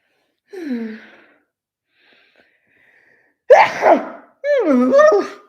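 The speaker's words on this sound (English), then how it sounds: "I think I'm gonna sneeze." A person sneezes with a rising voiced burst followed by a second, louder sneeze, close and alone, after an earlier brief wheezing sigh-like breath.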